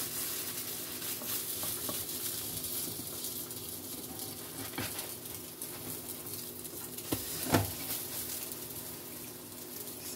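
Stuffed strawberry French toast sizzles softly in a buttered pan, a low, even hiss broken by a few light clicks and one brief louder scrape.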